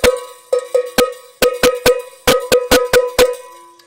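A bell is clanged in uneven bursts, about fifteen sharp metallic strikes with short ringing decays, loud and close.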